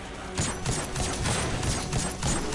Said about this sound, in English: my one gun, I don't have to reload, it just shoots, and it doesn't stop.